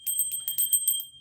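Bright, high-pitched chimes ring in a quick series of about eight metallic strikes, each with a shimmering sustain, heard alone and fairly close with no talk.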